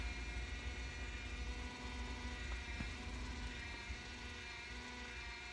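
A cup turner motor slowly rotates an epoxy-coated glittered tumbler, giving off a steady, continuous low hum with no breaks or talk.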